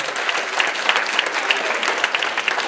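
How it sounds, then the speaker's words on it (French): Audience applause for high school theatre students after a show, with a steady wash of many hands clapping that stays even and moderately loud throughout. "On va les applaudir bien fort"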